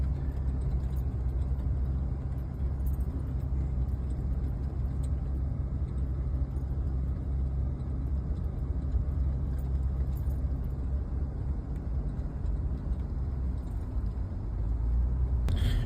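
A snowmobile engine drones steadily while riding up Bald Mountain in Alaska, a continuous close rumble with no break and no talk.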